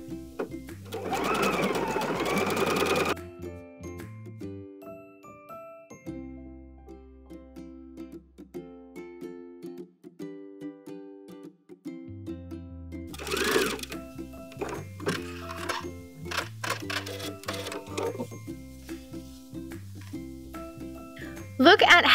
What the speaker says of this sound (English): So I'm gonna go all the way around my square with the overcast stitch so my edges don't fray.